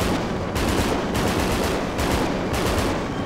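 Loud, dense bursts of automatic gunfire rattle almost without a break in a GTA 5 zombie survival game, with short pauses between volleys and no talk.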